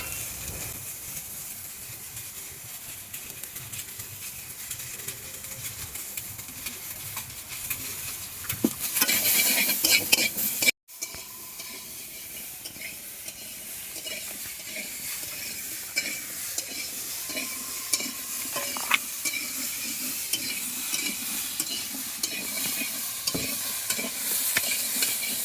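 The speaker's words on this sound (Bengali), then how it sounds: "5 মিনিট ভেজে নেব নুন আর একটু হলুদ দিয়ে।" Fresh vegetables fry with salt and turmeric in hot oil in a wok, a continuous close sizzle broken by repeated scraping and clattering as a spatula stirs them, with a short loud burst partway through.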